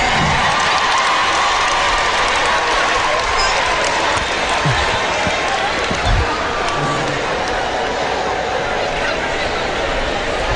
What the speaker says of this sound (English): the crowd seems to be going wild for this interloper